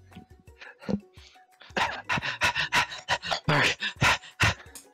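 Rapid, rhythmic panting breaths, like a dog's, in quick bursts close up with brief sounds before them; a human voice appears to be imitating a dog's panting.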